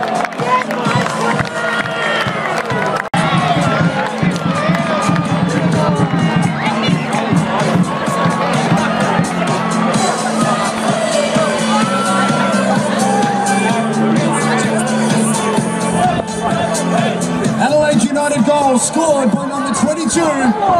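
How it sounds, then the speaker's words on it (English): Football crowd at an Adelaide United versus Western Sydney Wanderers match, a loud, continuous mass of cheering, shouting and whooping that swells and stays dense throughout, with voices chattering close by. "cheering"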